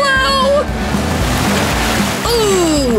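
A large load of cold water crashes down onto a person during an acrobatics challenge, giving a loud, broad splash and rush of water while voices shout and exclaim over it.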